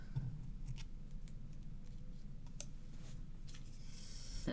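Scissors snip through a paper card embellishment in several quiet, close cuts, with light clicks between them and no talking.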